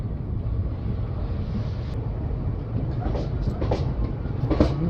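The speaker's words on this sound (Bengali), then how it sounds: "রাত প্রায় 9:30টার সময় আমাদের train new Farakka junction enter করছে" The Teesta Torsa Express rolls into New Farakka Junction at night, a continuous heavy rumble of wheels and carriages with some wind buffeting, while a person talks over it.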